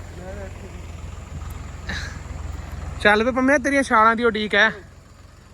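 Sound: tractor engine

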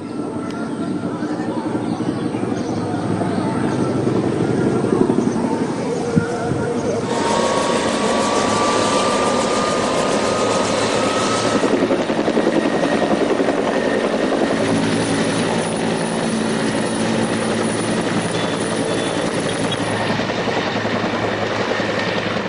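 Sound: Air Force Bell 212 helicopter flying to put out a fire

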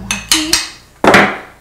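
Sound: hammering a small metal jump ring

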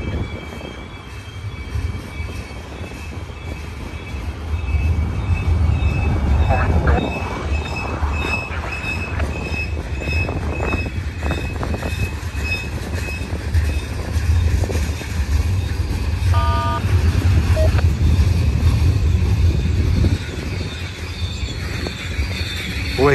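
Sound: manifest freight train with boxcars passing

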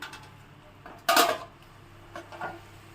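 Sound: pot lid placed on prawn and egg curry

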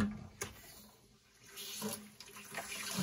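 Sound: water draining out of house plumbing lines

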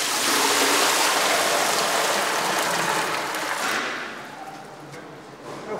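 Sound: water poured into cauldron for making loukoumi

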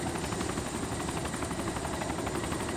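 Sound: helicopter in the video game DayZ

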